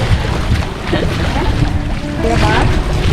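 Steady rumble of a passenger motor boat underway in Zambales, with wind buffeting and water noise; faint voices come through beneath the engine.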